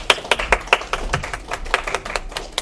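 Sharp, uneven claps from a small audience at a Lima literary festival, a quick scatter of individual hand claps fairly close by with no speech.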